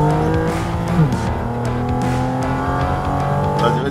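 Porsche GT4 RS race car accelerating on a track, its engine a loud, continuous high-revving howl with rising pitch through the gears, heard close from inside the car.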